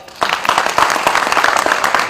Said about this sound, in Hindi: ये तालियां मेरे लिए, मेरे नसीब के लिए एक बार हो जाए